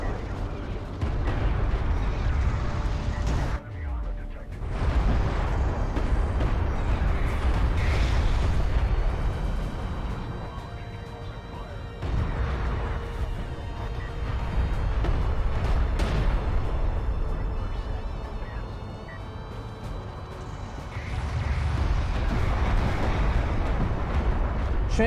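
Heavy cruise missile explosions in a naval warship video game strike a carrier, a dense rumbling barrage of booms that rolls on almost without pause, loud and low-heavy throughout.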